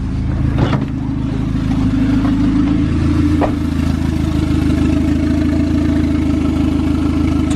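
A turbocharged Honda EJ1 engine runs steadily with a low, constant droning hum and light mechanical clatter, loud and close throughout.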